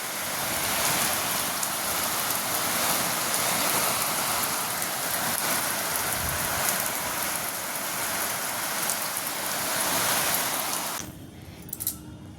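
A heavy storm's rain pours onto a rooftop garden, a dense, even roar of drops on surfaces that stays constant for about eleven seconds before cutting off abruptly into near quiet.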